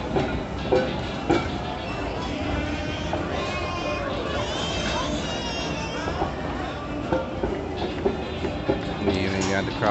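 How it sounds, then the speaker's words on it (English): A train rumbles past continuously at close range with rhythmic clacking of wheels on rails and faint voices in the background. "Gotta wait for the train to go by."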